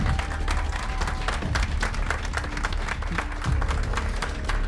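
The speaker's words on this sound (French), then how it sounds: "On les applaudit bien fort." A large audience at the Mister Universel France pageant applauds loudly and steadily, dense overlapping claps filling a hall for several seconds, with faint voices mixed into the crowd.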